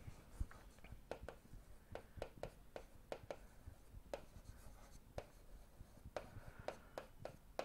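Chalk or marker strokes on a board as a teacher writes out the definition of arithmetic progression, a run of short sharp taps and scratches at an irregular pace, close and fairly quiet, with no speech.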